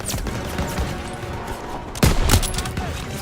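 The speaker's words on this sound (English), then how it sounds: "Suppressive fire! Keep firing!" Sustained gunfire from a World War II battle in Call of Duty WW2, a continuous rattle of rifles and machine guns with a louder burst of nearby shots midway, under faint background shouting.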